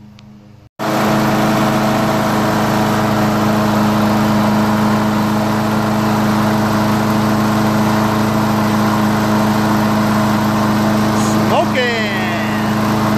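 A Craftsman 6.75 HP self-propelled lawn mower engine catches after a brief pull and settles into a loud, steady, close running drone that continues to the end.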